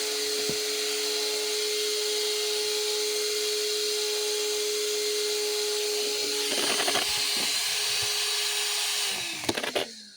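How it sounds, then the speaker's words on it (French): Cooling fans on a Traxxas Rustler 4x4 brushless RC car whir loudly and steadily at a high pitch, a continuous mechanical drone with a few brief clicks and bumps toward the end. "je vous préviens que les ventilos ça va gueuler fort"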